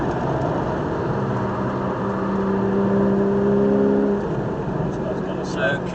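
A racing car lapping the Silverstone circuit, heard from on board as a loud, continuous engine roar with steady tonal whine, pitch shifting as it brakes and turns in; a voice talks over it.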